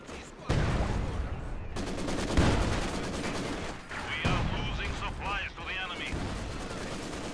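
Maxim machine gun firing in a video game, sustained rapid bursts of heavy automatic fire with brief gaps between volleys, loud and close, with other game effects layered in.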